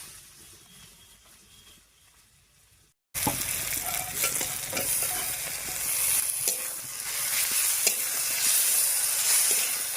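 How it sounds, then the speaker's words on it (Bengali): Chopped tomatoes hit a pan of frying dried fish and are stirred, a loud steady sizzle breaking in suddenly after a quiet stretch, with scraping spatula strokes throughout. "টমেটো দিয়ে নাড়িয়ে নিলাম"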